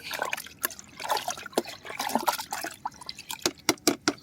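Ground coconut milk poured into leftover rice-washing water, a thin trickling and dribbling of liquid broken by a few sharp splashes and drips near the end.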